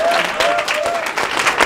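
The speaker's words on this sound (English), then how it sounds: "Big round of applause" Brief burst of audience applause after a sung round of Row Your Boat at a business talk, lively clapping from a crowd with a voice briefly audible over it.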